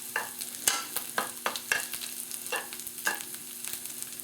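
Food fries in a pan with a low background sizzle while a utensil scrapes and taps it in about a dozen uneven strokes, close and moderately loud, with no speech.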